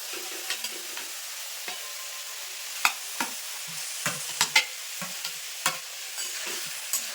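Boiled potato and cauliflower are stirred and fried with spices in a pan, a constant sizzle broken by scattered scraping knocks of the spoon against the pan, close and with no talk.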